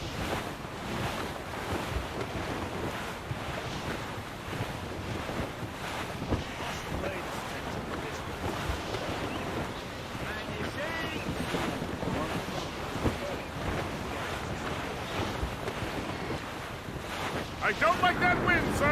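Wind and ocean waves at sea in Assassin's Creed Rogue, a steady dense roar of surf and gusting wind across the open water, loud and continuous throughout with a brief rise near the end.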